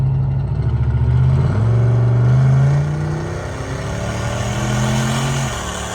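A turbocharged police car engine tuned past 550 horsepower revs loudly up close, its deep mid-pitched drone climbing and falling through several pulls, with no talk over it.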